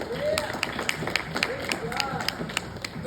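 Audience applause at a missing-persons awareness event in Indianapolis, heard as a dense wash of steady clapping with faint crowd voices underneath.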